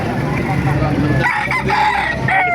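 Roosters crowing among the caged birds at a busy chicken market in Baliuag, Bulacan, several loud nearby crows overlapping with steady crowd murmur and clucking.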